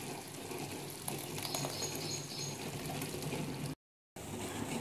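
Spice paste of ground poppy seeds poured into a pot of simmering lamb curry in a South Indian village kitchen, a thick wet pouring and bubbling that runs steadily before a short break.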